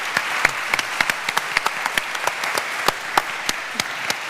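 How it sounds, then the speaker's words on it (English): A conference audience at a diversity and inclusion event claps for the panel speakers: steady applause with distinct, sharp individual claps popping out in an irregular rhythm, moderately close and without talk. "can I just give a round of applause to my wonderful speakers here"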